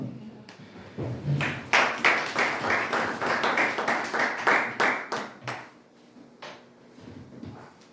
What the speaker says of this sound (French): on acclame très fort le Seigneur